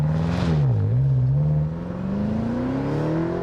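A 2013 BMW M5 with a twin-clutch transmission accelerates, its engine note dipping briefly at a gear change then climbing steadily in a smooth, loud rising drone heard from inside.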